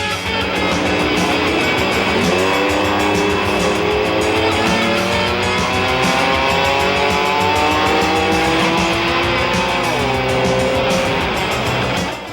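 Off-road trucks racing in a stadium, with loud, continuous engine roar and rising and falling revs as the trucks accelerate and shift, packed close and dense throughout with no talking.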